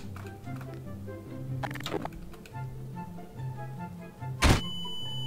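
An SC-500 bomb goes off in Garry's Mod with one short, sharp blast that rises suddenly above a low hum and scattered clicks, followed by a lingering high tone.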